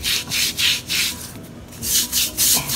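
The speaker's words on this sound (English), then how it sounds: "So continue scrubbing the grout." A brush scrubs grout on a white marble floor in quick, rhythmic back-and-forth strokes, about eight close, rasping bristle scrapes with no talking.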